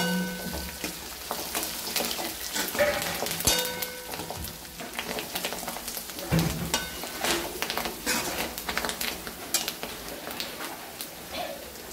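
Green chillies and curry leaves frying in hot oil in a pan for a Maharashtrian vatana rassa bhaji, giving a busy, crackling sizzle with spatula stirring and scraping, loud and close throughout.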